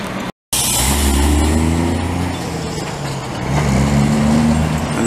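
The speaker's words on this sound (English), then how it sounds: "And that's how a truck's supposed to sound." A truck in Montreal makes a loud, close engine rumble, a steady low drone that swells and shifts in pitch, broken by a brief cut near the start.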